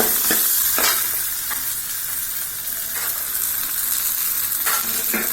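Dried vathal berries sautéing in hot oil for Tamil vathakuzhambu, a steady close sizzle broken by several sharp stirring scrapes of a ladle against the pan, with no voices.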